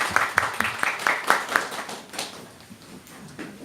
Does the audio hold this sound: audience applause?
yes